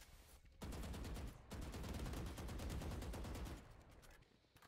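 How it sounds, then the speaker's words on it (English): Rapid sustained gunfire from the Valorant video game, dense bursts of shots pausing briefly then continuing for several seconds before tapering off, with no talking. "Go keep on shooting, guys."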